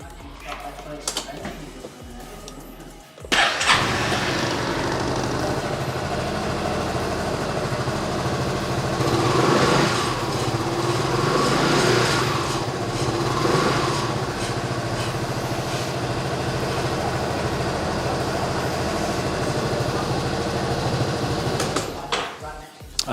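A Honda SH300i scooter engine catches after a few quiet seconds and settles into a steady, close idle for nearly twenty seconds before cutting off at the end.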